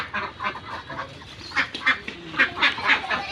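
Several domestic ducks quack in short, clustered bursts beside a backyard swimming pool, a few calls standing out loud and close while others are softer, with no talking.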